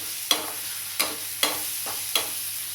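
Spoon stirring chopped peanuts into a soybean mixture in a hot pan, four light scraping strokes spaced roughly half a second apart over a steady close sizzle, no voices.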